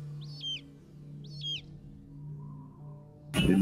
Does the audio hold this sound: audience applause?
no